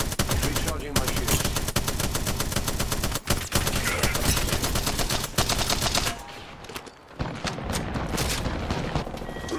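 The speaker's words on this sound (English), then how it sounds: "Firing a smart bullet." Rapid bursts of smart bullet gunfire in Apex Legends, loud rattling volleys in fast succession with a short break near the middle and a quieter lull before the firing resumes.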